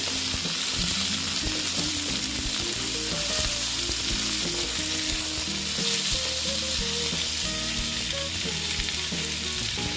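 Vegetables fry in oil in a pan for a potato, pointed gourd and soybean curry, giving a steady close-up sizzle that runs throughout beneath tonal background music.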